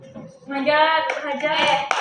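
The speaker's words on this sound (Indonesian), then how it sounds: "Tepuk tangan tangannya" A tenth-grade Arabic class claps hands in short, close bursts, with a voice audible among the clapping.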